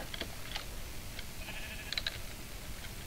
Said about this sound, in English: Man, that sheep is just freaky looking.